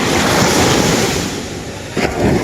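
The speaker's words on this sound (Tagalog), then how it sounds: "Sobrang lakas ng alon guys." Strong ocean waves crash and surge on a windy shore, a loud continuous roar of churning surf with wind buffeting the microphone and a fresh wash breaking near the end.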